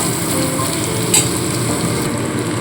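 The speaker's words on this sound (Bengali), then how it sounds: "দেখুন খুব সামান্য পরিমাণে জল দিয়ে দিলাম" Frying masala in a pan for palong shak with prawns, just splashed with a little water, a loud steady hiss and sizzle with a brief sharp crackle near the middle.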